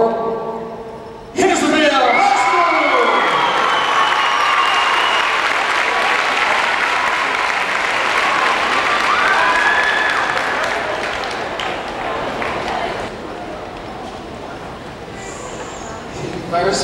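A large crowd erupts into cheering and applause at a cheerleading competition awards announcement, a loud sustained roar of clapping and shouts with a few whistles, swelling early and slowly tapering off toward the end.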